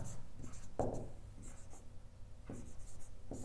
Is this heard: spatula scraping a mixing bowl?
no